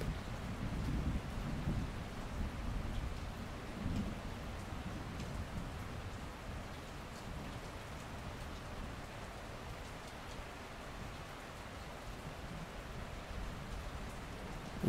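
A thunderstorm with steady heavy rain pattering across surfaces, low rumbles of thunder swelling early on and fading, then a continuous even downpour throughout.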